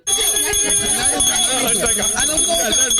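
A loud electric bell rings continuously in the Bigg Boss Malayalam reality show house, a harsh metallic clanging that fills the whole clip after a sudden start.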